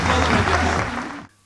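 Audience applause at a mayoral handover ceremony in Alaşehir, a dense, loud burst of clapping from a crowd that carries on steadily, then cuts off abruptly near the end.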